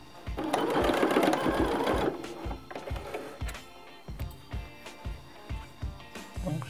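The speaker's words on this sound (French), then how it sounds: "On réalise une couture à 1 cm sur les deux côtés et sur toute la hauteur." Domestic sewing machine running a seam along both sides of fabric for a bucket hat, starting with a loud continuous whir for about two seconds, then a series of short, evenly spaced bursts of stitching with no talk.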